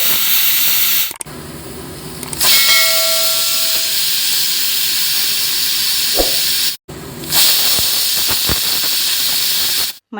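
A pressure cooker of toor dal with turmeric and a little oil vents loud, continuous hissing steam with a brief whistle tone, cutting out twice before the rush resumes.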